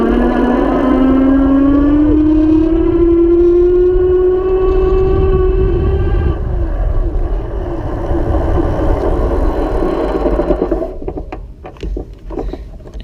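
A Pedego Platinum Interceptor electric bike's motor gives a loud, steady whine that climbs in pitch as it speeds up, then fades into rolling and wind noise, ending in a brake stop.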